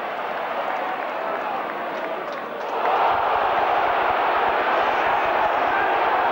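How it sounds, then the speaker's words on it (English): Stadium crowd at a rugby league match, St Helens v New Zealand in 1989, swelling from a steady broad murmur into a louder sustained roar partway through, distant and diffuse with no clear voices. "a big roar there from the crowd"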